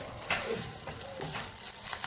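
Black mustard seeds, fenugreek, ginger and curry leaves sizzling in hot oil make a steady, crackling fry with quick popping spits, close and moderately quiet.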